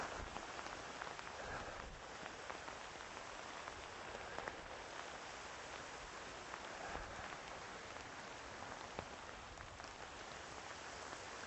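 Steady outdoor rain falls in humid weather at dusk, a dense continuous patter that holds at an even level throughout with no voices.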